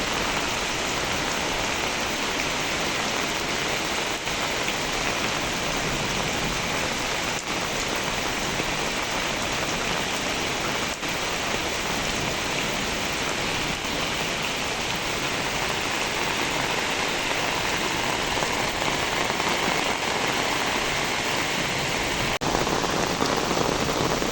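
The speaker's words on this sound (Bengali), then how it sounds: "আমাদের বাড়ির উঠানে দেখেন বৃষ্টির পানি দিয়ে একবারে স্রোত লাগছে পানির" Heavy rain pours onto a house courtyard, with rainwater running across the ground in a stream; a dense, unbroken hiss stays constant and loud throughout, with no voices.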